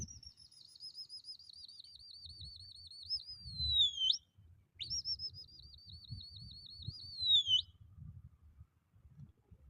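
Large pigeons perched in a tree give two long warbling, wavering calls, fairly close and clear, over a low rumble of background noise.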